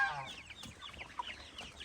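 Several farmyard chickens cluck close by at a feeder, a busy overlapping run of short calls with a faint voice in the background.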